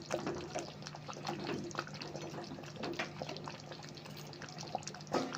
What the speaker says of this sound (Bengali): আর 1 মিনিটের মতো ফুটিয়ে নেব।